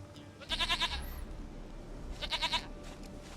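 In The Witcher 3, a goat gives two wavering bleats about two seconds apart, soft and close against quiet game ambience.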